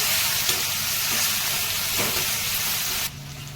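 Tomato pieces sizzle steadily in a hot pan while being fried down soft for a yam and bachali greens curry, a dense continuous hiss with a few faint stirring scrapes, dropping quieter near the end.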